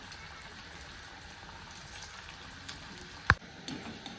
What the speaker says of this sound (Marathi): ही अशाच राहिलेल्या वड्या पण मी आता सगळ्या तळून घेणार आहे